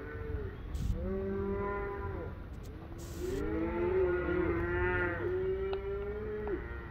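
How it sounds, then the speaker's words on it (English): Cows of different ages, old and young, low repeatedly outdoors, several long drawn-out moos overlapping and following one another at close range. "there's an old cow, young cow,"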